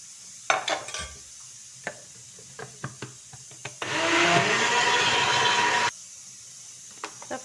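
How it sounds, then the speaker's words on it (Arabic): Some clinks and knocks come first, then an electric blender roars steadily for about two seconds as it blends juice with added water, then stops and a few light taps follow. "غادي نزيدو شويه تاع الماء ونعاود نطحنو"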